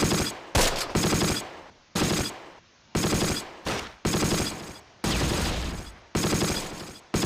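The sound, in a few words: machine gun fire in Close Combat: Last Stand Arnhem video game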